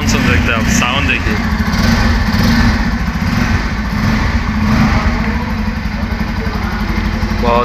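A new Bajaj Pulsar F250 motorcycle idles close by with a loud, steady, throbbing engine note, and voices talk briefly over it.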